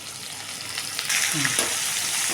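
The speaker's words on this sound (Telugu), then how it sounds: "ఇప్పుడు మనం సన్నగా చేసుకున్న ఉల్లిపాయలు పచ్చిమిరపకాయలు వేసేస్తున్నాం ఇవి కొంచెం వేగాలి" Sliced onions and green chillies sizzling in hot tempering oil with turmeric, a continuous close hiss that swells louder partway through as more goes into the pan, no voices.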